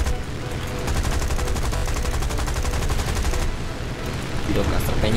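Gunfire in the War Thunder air combat game, rapid machine-gun bursts rattling loudly and continuously for several seconds, then easing, with engine noise underneath.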